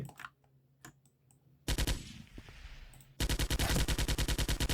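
Automatic rifle fire in a realistic first-person shooter game: a long sustained burst of rapid, evenly spaced shots, loud and close, follows a quieter gap with one earlier short burst.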